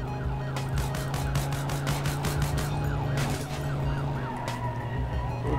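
Police car siren in a driving video game while fleeing in a Chevette, a loud continuous wailing siren over a steady engine drone, with rhythmic pulsing and a constant mechanical hum throughout.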